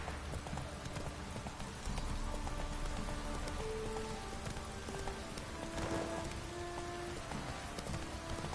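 Horse galloping in The Witcher 3 on PS4, steady rhythmic hoofbeats over a constant rain-like patter, with faint tonal game sounds drifting in and out.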